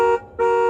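Two short, loud honks of a car horn sound effect played on a Casio keyboard, each a steady buzzy tone separated by a brief gap, heard alone.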